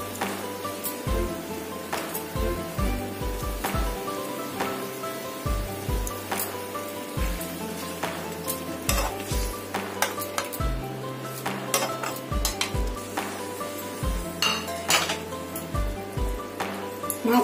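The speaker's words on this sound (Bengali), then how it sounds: "ঝোলটা দিয়ে আমি ভেজে রাখা মাছগুলো সব দিয়ে দিচ্ছি" Fried rui fish pieces go into a simmering curry gravy for a Bengali jhol with stalks and potato, bringing steady bubbling and sizzle under repeated close clinks and scrapes of a utensil against the pan.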